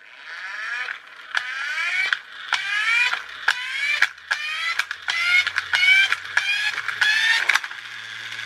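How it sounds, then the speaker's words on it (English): Ripps Garage RG7X Crank'n'Race toy car being cranked up: a steady run of about a dozen sharp ratcheting clicks with whirring plastic-gear creaks between them, close and fairly loud, with no talking. "So I can pump it up."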